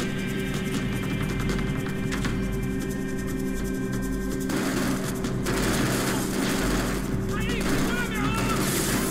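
Gunfire rattles in the video game Max Payne 3, rapid shots and bursts over a droning game soundtrack, with a louder clash of effects partway through and a voice speaking over it.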